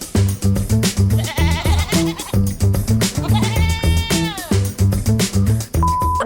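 A goat on a farm bleats in loud, wavering cries while being chased and cornered, with a strong rhythmic backing of music running throughout.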